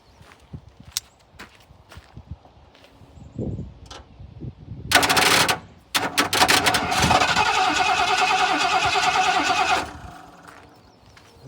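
A 1986 Ford F-150 XLT Lariat pickup truck engine cranks with a loud starter whir, catches, then settles into a steady, close idle for several seconds before dropping off, after a few scattered knocks and footsteps.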